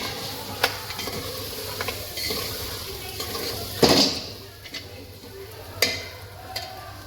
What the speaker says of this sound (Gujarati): પહેલાં આપણે હલાવી લઈશું બરાબર